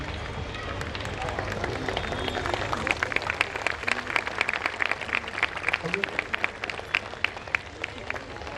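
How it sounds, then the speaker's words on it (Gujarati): An audience at a school event applauds for the children, with dense, steady clapping throughout that grows sharper and more distinct in the second half, accompanied by a faint murmur of crowd voices. "મિત્રો, આ તાળીઓ સતત બાળકો માટે વગડતી રહી."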